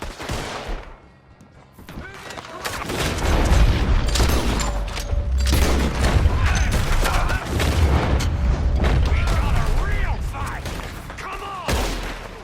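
A gunfight breaks out in a camp in Red Dead Redemption 2: dense, loud bursts of rapid gunfire and booming shots crackle almost continuously after a brief lull, with shouting voices mixed in.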